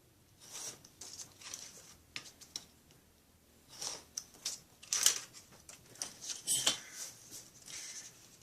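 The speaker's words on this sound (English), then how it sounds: "This is a little too long here, so I'm just going to cut that off." Quiet, close snips and rustles of paper being trimmed with scissors for a handmade iris-folded card, coming in irregular bursts with short pauses between cuts.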